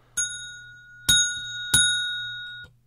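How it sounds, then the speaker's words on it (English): The bell from the Zinga board game rings three times, each a sharp metallic ding that hangs in a long ringing tail, close and loud against silence. "There's a bell in here, so let's find the bell first."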